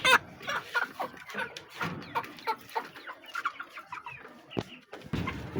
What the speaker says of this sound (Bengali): মোরগ লড়াই কখনো দেখেছেন